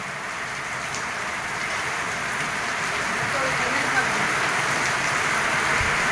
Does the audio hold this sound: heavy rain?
yes